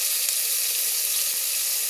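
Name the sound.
snakehead fish frying in a pan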